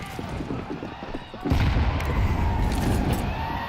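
Gunfire rattles through a Counter-Strike match on Dust 2, with bullets spammed from high ramp, dense bursts thickening halfway through under a caster's steady commentary.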